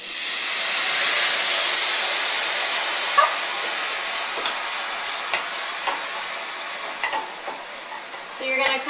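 Balsamic vinegar and brown sugar mixture sizzling and steaming in a hot pan while being stirred constantly, a steady bright hiss with occasional small pops and utensil scrapes, close and continuous.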